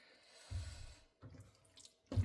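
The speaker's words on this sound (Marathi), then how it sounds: "जे मिक्सरमध्ये काजूची पेस्ट केली होती ते वॉश करून जे पाणी निघेल ते ॲड" Water used to rinse cashew paste out of a mixer jar splashes into a cashew curry (usal) in three separate pours, each a short, close gush followed by a quieter trickle.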